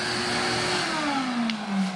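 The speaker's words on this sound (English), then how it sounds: "The only bad thing about a vacuum is the noise." A shop vacuum runs steadily and loudly during fiberglass work on custom rod holders for a Coosa board, its whine dropping in pitch as the motor winds down after being unplugged.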